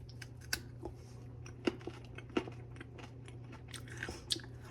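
Crunchy bites of a crispy oven-baked sweet potato fry seasoned with salt, cinnamon and cumin, a few sharp crunches standing out over a steady low background hum, close to the mic with no talking.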